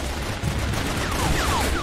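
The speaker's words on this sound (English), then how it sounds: "They fired again!" Enemy gunfire in the video game Raven Squad, a quick rattling burst of shots under steady loud battle noise, with a few falling whistling tones trailing over it, no voices.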